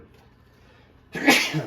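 A single loud sneeze bursts out near the microphone after a quiet stretch in a kitchen where sausage gravy is being made, with a brief word spoken just before it.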